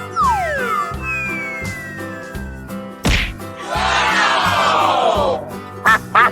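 A cartoonish duck in a 3D animal slide game gives a quack amid layered game sound effects, including sliding whooshes, a sharp thwack, a rushing splash-like burst and bright music underneath, all loud and close.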